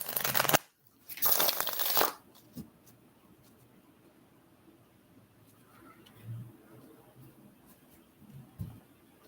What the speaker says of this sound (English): Let's shuffle these back into the deck.